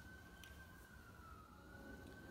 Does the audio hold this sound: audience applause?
no